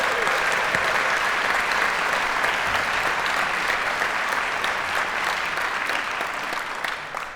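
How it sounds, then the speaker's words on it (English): Sustained applause from a theater audience after a call to honor the backstage crew at a Gershwin centennial concert, a dense, even wash of clapping that holds steady for several seconds and thins slightly at the end. "Let's give them all a round of applause"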